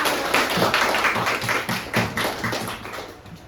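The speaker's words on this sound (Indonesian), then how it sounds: "Tepuk tangan untuk kita semua." Scattered clapping from a small group, likely students in a classroom, with irregular taps and thuds close by over a steady background.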